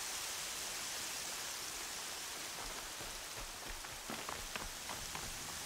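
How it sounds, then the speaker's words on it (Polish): Steady rain hiss falls on surfaces in the video game Horizon Zero Dawn, with scattered louder droplet taps near the end, continuous and fairly soft with no voices. "Deszcz nie jest taki zły."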